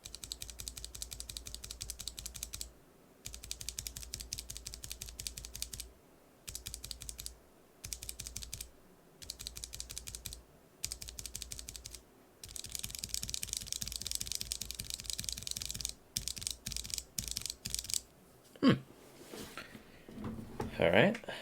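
Bursts of rapid clicking from NovelKeys BOX Cream mechanical switches, some bare and some with keycaps, stock and lubed, repeating in short runs separated by brief pauses, close and crisp, with a few handling knocks near the end.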